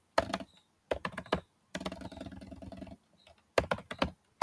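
Code is typed on a computer keyboard in close, rapid bursts of clicking keystrokes separated by short pauses, with no talking.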